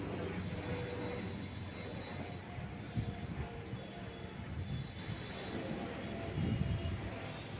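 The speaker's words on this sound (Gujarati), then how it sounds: "હેલિકોપ્ટર જાહે વિમાન જાય છે કે અવાજ આવે" A faint, distant aircraft, a helicopter or plane hidden in cloud, drones steadily overhead behind low murmuring voices and light wind noise.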